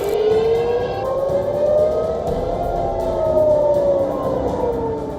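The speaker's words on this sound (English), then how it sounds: "First come the sirens." An air raid siren wails in Israel during an Iranian missile attack, one long rising and falling tone that sounds steadily and loudly over a dense, noisy background for the whole stretch.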